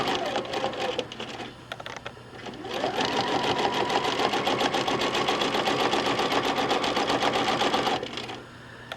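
A sewing machine free-motion quilts a log cabin quilt block, running in a fast, steady stitching rattle that speeds up and holds for several seconds, close and loud with brief slower stretches at the start and end.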